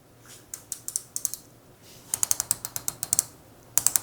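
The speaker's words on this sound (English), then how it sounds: "The other part of the bezel is it's not very clicky or snappy." The bezel of a Cronos L6033 37mm diver watch is turned in short runs of soft, evenly spaced clicks, close up and quiet, with brief pauses between each group.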